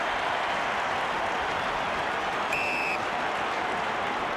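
Broad, even roar of a football stadium crowd at the 2004 Port Adelaide versus St Kilda preliminary final, steady and distant throughout, with a brief whistle-like tone partway through.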